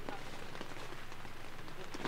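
Steady rain beats on a tent pitched at a beach campsite during a windy downpour, a dense continuous patter close overhead with no break across the stretch.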